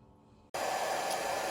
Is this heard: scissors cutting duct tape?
no